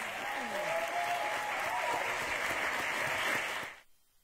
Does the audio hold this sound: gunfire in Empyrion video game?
no